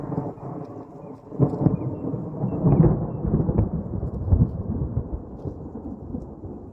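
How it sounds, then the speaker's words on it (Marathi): Thunder rolls and crashes through a heavy rainstorm over farm fields, deep rumbling peaks swelling repeatedly over a steady wash of rain, loud and close with no voices. "इजा चमकती तर एकदम आवाज अगदी कडकडन धडधडा आवाज येतोय"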